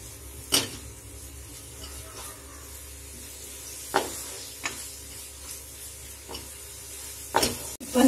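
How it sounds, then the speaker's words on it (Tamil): Tomatoes, onions and spice powders sautéing in a pan for mushroom sukka: a soft continuous sizzle broken by several scattered spatula scrapes and stirs, close by with no talk. "எல்லாத்தையும் நல்லா வதக்கி விட்டுடுவோம்"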